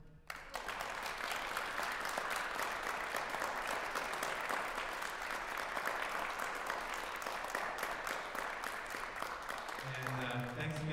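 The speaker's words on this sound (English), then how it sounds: "Big round of applause for our performers." At a benefit concert, an audience applauds the performers with a sustained, even wash of clapping for about ten seconds, and a voice begins speaking faintly as it ends.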